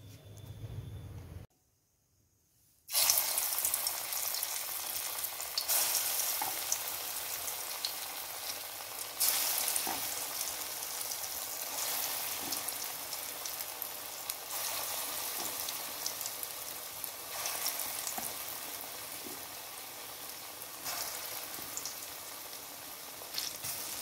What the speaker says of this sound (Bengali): একে একে বড়াগুলো কড়াইতে দিয়ে দেব